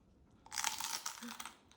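A person bites into a crunchy legume snack, giving a short burst of close crisp crunching that lasts about a second, with no talking.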